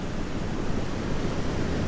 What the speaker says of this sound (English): Hear the roar of the Southern Ocean.